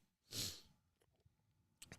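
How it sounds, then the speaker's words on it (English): A single sharp sneeze bursts out near the start during a live basketball play-by-play broadcast, close to the microphone, followed by faint breathy sniffs and quiet rustling. "I've never sneezed on the air."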